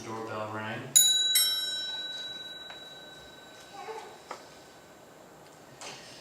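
A bright electronic bell rings twice in quick succession, its tones lingering and fading, after a voice speaks briefly at the start.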